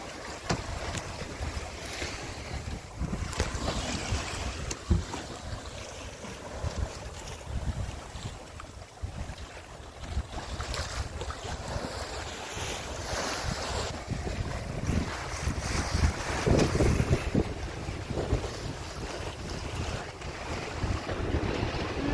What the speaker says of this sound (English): We have a little bit too much wind to actually reach with this thing at the moment.